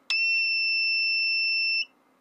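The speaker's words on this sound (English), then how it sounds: "Sorry about the annoying beep" An inverter's low-voltage alarm sounds one loud, steady electronic beep lasting close to two seconds, then cuts off sharply, leaving a faint low hum with no speech.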